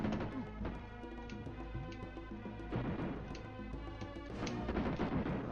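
Shotgun blasts in the Jurassic Park video game, several sharp booming shots at irregular intervals over a dense game soundtrack of music and effects.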